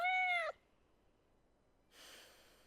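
A cat meows once, loud and close, in the Life is Strange Double Exposure video game. A brief soft breathy noise follows after a pause.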